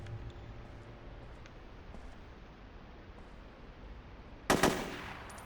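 A burst of loud gunfire from the SOCOM US Navy Seals video game breaks in near the end of a quiet stretch of hissing background ambience, ringing briefly before fading.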